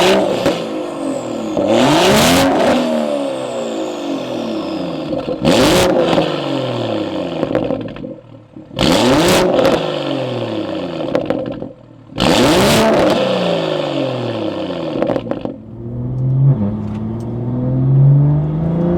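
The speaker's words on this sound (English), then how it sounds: "let's go ahead and get a couple of stationary revs for you guys" BMW F30 with an XHP flame-tune burble map, parked and revved: four loud, close throttle blips, each a sharp rising roar that falls away into crackling burble, with a settling idle at the end.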